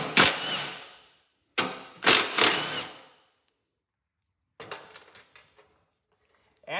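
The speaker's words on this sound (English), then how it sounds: "Now we're going to take off the rear bolts right here." Rear fender bolts on a Cub Cadet 882 garden tractor being loosened with a power tool, several loud whirring bursts separated by pauses, then a quieter rattling burst.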